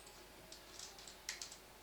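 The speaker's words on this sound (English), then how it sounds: "here I will type my comments" Quiet typing on a computer keyboard while entering comments into VBA code, a handful of light, irregular key clicks that cluster near the end, close but faint, with no voices.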